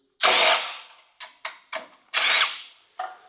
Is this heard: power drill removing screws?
yes